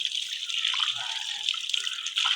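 Tap water runs steadily into a sink while purple yam (kachil) is washed, a soft continuous splashing stream heard close and fairly quiet, with a few faint knocks underneath.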